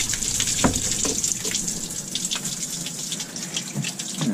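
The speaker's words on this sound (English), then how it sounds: "And there the water gets emptied from the engine." Water gushes and splashes steadily as it drains out of a Mercruiser 5.7 liter boat engine during water pump replacement, a continuous close rushing flow with scattered drips.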